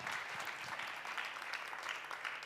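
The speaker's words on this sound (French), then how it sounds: "On l'applaudit très fort." An audience at a marketing conference claps, a dense, even patter of many hands that is fairly quiet and sustained with no voices over it.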